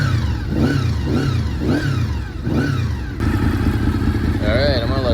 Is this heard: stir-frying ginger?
no